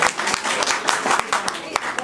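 An audience claps for young people at a community cafe gathering, a dense patter of hand claps with voices mixed in throughout.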